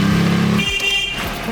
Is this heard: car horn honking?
yes